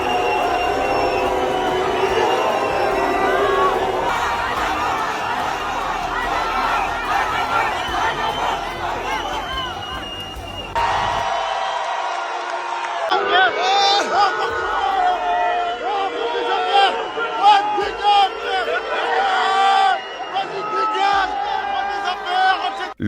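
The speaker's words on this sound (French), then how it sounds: "qui quitte la salle sous les huées des fidèles du nouveau maire" A hall crowd of supporters of a new mayor boos and jeers as the former mayor leaves, a loud mass of shouting voices and babble that drops out briefly before returning with whoops and chatter under a talking voice.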